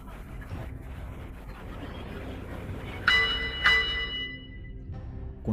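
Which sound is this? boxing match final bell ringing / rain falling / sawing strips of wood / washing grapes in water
boxing match final bell ringing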